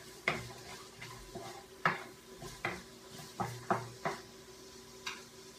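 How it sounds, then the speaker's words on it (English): Vegetables being sautéed in a wok, with repeated sharp scrapes and clanks of a utensil tossing them about, about a dozen strokes in an uneven rhythm over a light sizzle. "those are sauteing in the wok"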